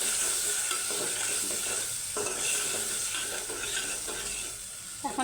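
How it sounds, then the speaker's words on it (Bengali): Spice paste and sour yogurt are stirred and sautéed with a little water in a pan for a beef kebab, giving a continuous soft sizzle with scraping stir strokes and a brief clink near the end. "হালকা একটু পানি দিয়ে মশলাটাকে সুন্দরভাবে কষিয়ে নিচ্ছি"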